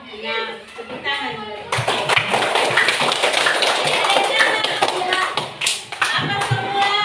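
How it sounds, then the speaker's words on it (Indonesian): Children in an Indonesian classroom clap their hands together after a teacher's prompt, a brisk, rhythmic patter of many small hands close by, preceded by a teacher talking and mixed with young voices. "Tepuk tangan."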